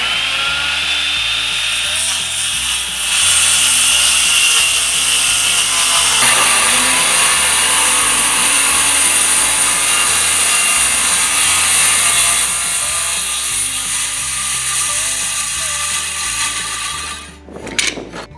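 A circular saw cuts a 48-inch piece of wood for a cornhole board. After a short spin-up the blade bites in with a loud, sustained high whine lasting over ten seconds, then winds down close by.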